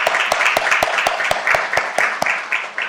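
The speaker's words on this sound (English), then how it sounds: "can we give a hand of applause to the parents?" Ceremony audience applauding the parents, a short burst of brisk, irregular hand claps with some sharper individual claps standing out, close and lively.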